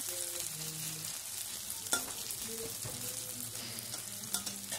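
Onions fry in a pan over high flame, a continuous soft sizzle with occasional spatula scrapes and faint background tones, no talking.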